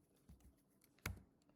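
A computer keyboard's F key is pressed, giving a couple of soft, faint clicks with one sharper keystroke near the end in a quiet room.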